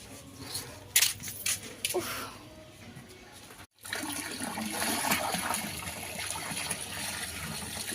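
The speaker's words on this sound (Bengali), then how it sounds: "এই যে বোন গামলার ভিতরে সব জলগুলো ঢেলে রাখছে" Water sloshes and gushes from a bucket into a large basin, a rushing, splashing pour that steadies into a continuous flow after a brief break, with a voice faintly behind it.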